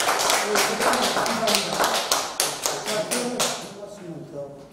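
Audience at a church press conference claps, a dense burst of applause that gradually thins and fades toward the end.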